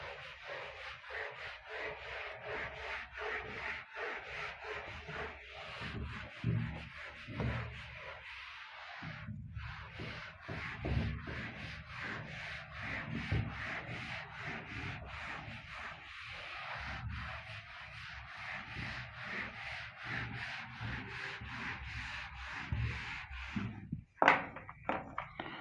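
Steady rubbing of a board to erase writing during a maths class, a continuous scratchy, uneven scrubbing with brief pauses, close and moderately loud.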